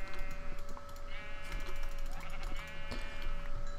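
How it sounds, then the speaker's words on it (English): A sheep in the video game Minecraft bleats in several short, wavering calls over a steady hum, with light computer keyboard tapping underneath. "I'm gonna kill this sheep"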